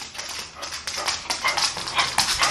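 A dog makes short, high whines and yips in quick succession, close up, with scratchy rustling underneath.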